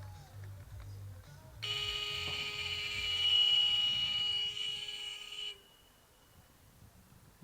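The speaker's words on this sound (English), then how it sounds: "that buzzer does signal the end of the game" A piercingly loud buzzer sounds the end of a school rugby sevens game, one steady electronic tone lasting about four seconds over outdoor crowd murmur.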